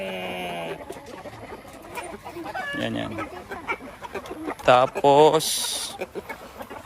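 An older Shamo Aseel gamecock, hatched in 2011, gives several clucks and short calls in bursts, fairly close, with someone talking over and between them.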